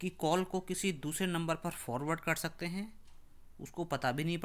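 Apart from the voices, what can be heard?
No everyday noise stands out behind the speech.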